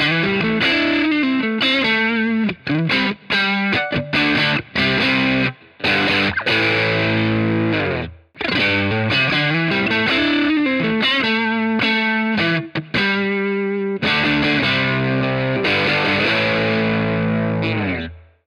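An electric guitar driven through an overdrive pedal into a Fender Blues Jr amp, loud gritty chords and riffs played close with short gaps between phrases, ending on a sustained ringing chord.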